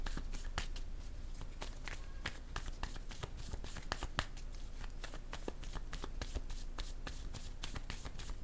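A deck of cards being shuffled, with rapid sharp riffles and flicks repeating in a quick, irregular rhythm close by at a fairly soft level, with no voices.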